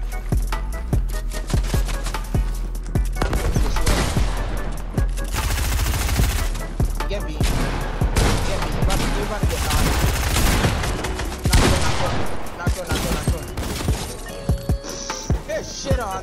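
Rapid bursts of gunfire from a console video game shooter crackle loudly and almost continuously, dense and overlapping, with faint voices mixed in underneath.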